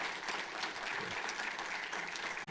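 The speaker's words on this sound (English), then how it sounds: "Give Scott a round of applause for his work tonight." Audience applause at a conference session closing, a steady wash of clapping from a crowd that holds for a couple of seconds and cuts off abruptly at the end.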